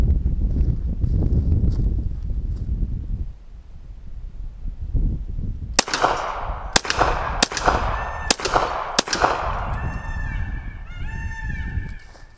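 A blowback Thompson M1 reproduction submachine gun fires a short string of sharp, loud single shots outdoors, about five evenly spaced reports with ringing tails, following a stretch of low rumbling background noise.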